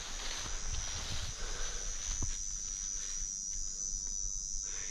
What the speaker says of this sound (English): Wow, you can get the cicadas.